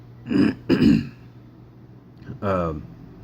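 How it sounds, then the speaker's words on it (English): Two harsh throat clearings close to the mic, followed after a pause by a short voiced grunt or hum. "That's why I'm clearing my throat a lot."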